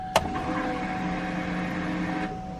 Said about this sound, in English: Listen at this fuel pump.